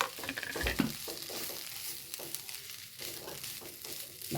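Grated coconut being stirred into a chicken and drumstick-leaf stir-fry, with repeated scraping strokes of a spoon against the pan over a steady soft sizzle, close by and without talk.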